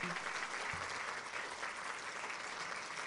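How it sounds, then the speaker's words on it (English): A symposium audience applauds doctors at a follicular lymphoma patient event, sustained dense clapping filling the hall evenly from start to finish, quiet in level and heard from some distance. "We're going to have to clap all over again."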